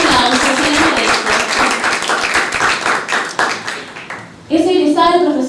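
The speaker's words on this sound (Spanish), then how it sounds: "Un aplauso, se le merece." An audience at a puppet theatre presentation claps for a puppeteer, dense steady clapping that thins and fades over several seconds before a voice begins speaking.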